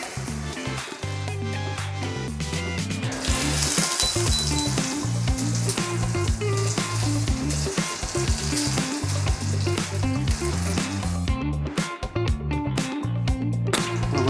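Garlic sizzles in melted butter in a pan, a steady frying crackle that runs throughout beneath loud background music.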